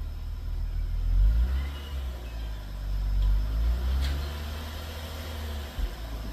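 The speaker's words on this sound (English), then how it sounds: "Hey, rev it a little bit." Deep, rumbling engine of a Lexus GS350 fitted with an axle-back exhaust, revved gently in a few rising and falling swells at close range, with a brief clunk near the end.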